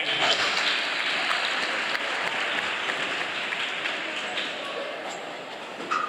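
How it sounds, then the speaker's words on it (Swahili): Steady, sustained applause from an audience at an award ceremony, honouring the guest of honour, dense clapping that holds throughout and fades slightly toward the end, with voices mixed in. "Hebu nipigeni makofi jamani."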